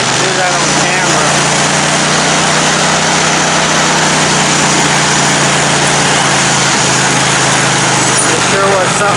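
An engine on a rebuilt off-road machine with a freshly rebuilt starter runs steadily at close range, a loud, dense, unbroken roar, and a voice can be heard under it.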